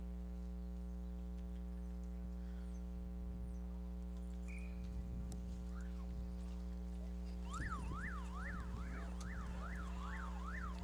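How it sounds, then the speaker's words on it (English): A hockey period-ending siren wails, rising and falling in quick repeated sweeps near the end, over a steady droning hum and low crowd noise in an arena. "The siren goes, and we'll take a timeout here at the end of the first period."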